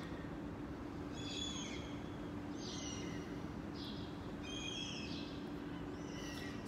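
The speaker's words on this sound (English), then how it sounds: "as you hear all those birds chirping." Several short, high bird calls ring out at intervals over a steady low background hum outdoors, fairly faint and distant.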